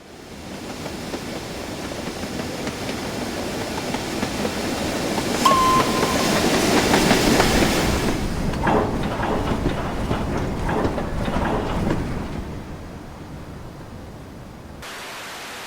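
A London and North Eastern Railway J50 class 0-6-0 steam tank engine in Train Simulator chugs along steadily with a broad hiss and rumble, building in intensity midway before easing off toward the end.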